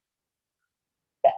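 A single short, sharp sneeze bursts out close by after more than a second of silence.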